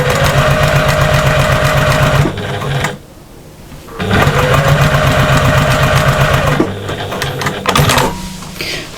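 A sewing machine stitches patchwork seams in loud close bursts, running for about two seconds, pausing, then running again for a longer stretch before a short final burst.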